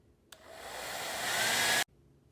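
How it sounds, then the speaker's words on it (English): A hair dryer runs steadily for about a second and a half while heating a seal during the reassembly of a vintage Rockwell Porta Band 725 band saw. It starts with a click, swells slightly, then cuts off abruptly. "That's the hair dryer treatment."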